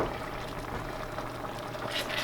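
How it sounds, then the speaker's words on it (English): Tomato sauce simmers in a pot, giving a soft, continuous bubbling and gentle sputtering up close, with a few brighter pops near the end. "the tomato sauce is really cooking"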